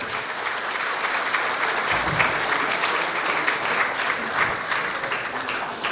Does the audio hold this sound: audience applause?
yes